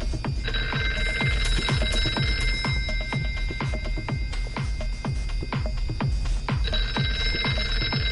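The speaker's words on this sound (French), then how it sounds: "Il est où ce con de téléphone?" In the horror game Here They Lie, a phone keeps ringing with a rapid, rattling bell pulse that holds steady and loud over a low, throbbing atmospheric drone.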